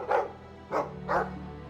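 A dog in the video game Dragon Age II barks three times in short, evenly spaced yaps. The barks sound fairly close and stand alone against a low background hum.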